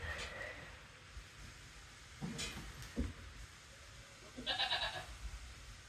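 A goat on a farm gives a few short, faint bleats while being held for a shot, with quiet handling noises between the calls.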